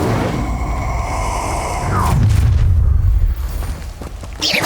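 An Incendio fire spell cast in Hogwarts Legacy, a loud whooshing burst that swells into a roaring, booming fireball over a couple of seconds amid combat effects.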